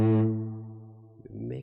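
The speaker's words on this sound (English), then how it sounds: "Okay, so you hear that reverb." A sustained cello note with reverb on a send track in Cubasis on iPad rings out loud and smooth, then decays into a lingering tail before a brief, quieter new phrase enters.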